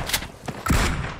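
Video game gunfire landing hits: a couple of sharp shots followed by a low thudding impact, loud and close, over a busy game soundscape.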